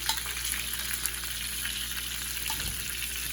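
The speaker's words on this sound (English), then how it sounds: "So I'm just going to put a sear on these pieces of corn." Corn pieces searing in a hot pan for Mexican street corn, a continuous bright sizzle and crackle at close range, steady throughout with a brief low knock near the end.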